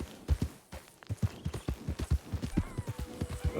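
Horse hooves clip-clopping at a walk while riding in the Red Dead Redemption video game, a close, even series of dull thuds with a brief pause near the start, heard alone without speech.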